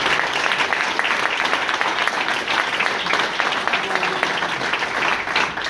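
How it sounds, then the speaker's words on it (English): A crowd at an Irish National Foresters gathering in Rostrevor claps steadily as a round of applause, a dense, even wash of many hands lasting throughout with no break. "So give them a round of applause first."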